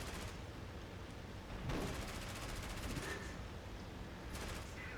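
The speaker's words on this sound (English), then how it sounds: "just trying to pepper me with bullets right now" Machine gun and cannon fire from aircraft in the IL-2 Battle of Kuban combat flight game, a steady muffled rattle of bursts heard at a distance under a constant engine-like roar.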